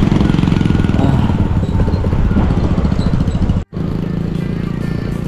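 A motorcycle engine drones loud and close at a steady pace while riding, with a sharp momentary dropout partway through before the engine noise resumes.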